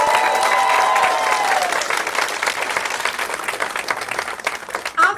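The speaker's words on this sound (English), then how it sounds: "big hand of applause for Katie" Dense applause from a town hall audience, loud and sustained at first then thinning out, with some voices mixed in near the end.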